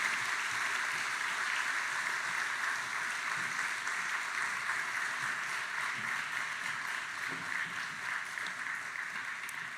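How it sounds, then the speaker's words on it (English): An audience at a village address gives a choir a dense, sustained round of applause, a steady wash of clapping that fades slightly near the end. "Let's give them another round of applause."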